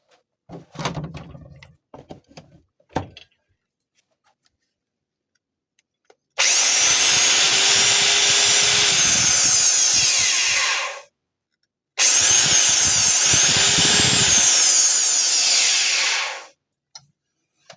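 A Chinese wood router with a newly replaced front bearing runs in two bursts of about five seconds each, a loud, close, steady high-pitched whine that winds up and spins down, preceded by a few clicks and handling knocks.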